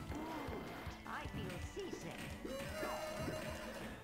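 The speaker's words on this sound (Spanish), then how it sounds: "Es que así sonaban los caballos en el pasado." Retro arcade video game horse sounds: a synthetic neigh and clip-clopping hooves, close and clear over game noise, with people talking over the top.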